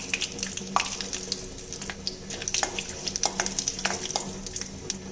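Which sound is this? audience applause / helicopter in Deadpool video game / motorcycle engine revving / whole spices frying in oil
whole spices frying in oil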